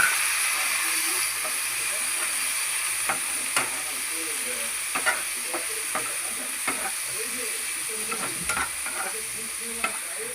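Ground spices fry in a pan with a splash of water, giving a steady, close sizzle and hiss with scattered stirring taps and scrapes throughout, while a voice talks faintly underneath.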